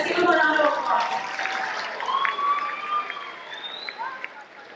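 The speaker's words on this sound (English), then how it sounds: "Let's give him a round of applause." An audience at a high school community salute event claps and whistles together for a volunteer, the applause fairly loud at first and then tapering off.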